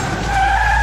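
Tires squeal in a short, loud skid as a car swerves during a chase in The Wolf Among Us video game, with no voices over it.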